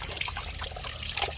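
Water runs steadily from a pipe at a farm, a faint, continuous trickle and gush with no voices.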